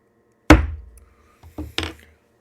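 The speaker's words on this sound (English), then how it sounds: "The gavel provides a visual and auditory point we can use to ensure that everything is synchronized." A wooden gavel strikes once, loud and sharp, then two quieter knocks follow about a second later, each with a short hollow decay and no voices.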